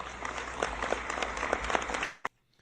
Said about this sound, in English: So he gets an applause there.